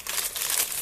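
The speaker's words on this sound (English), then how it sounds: "Get the plastic bag crumpling out of the way" Plastic bag crumpled by hand while building a Lego Creator Stunt Pilot set, a short burst of dense crinkling close up and alone.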